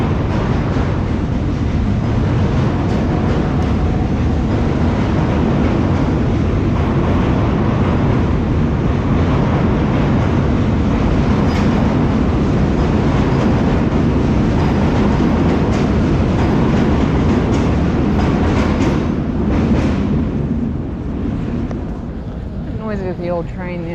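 An old train rumbles past near the London Eye, a loud continuous roar with rattling, clattering wheels that holds steady for the whole stretch and eases slightly at the end.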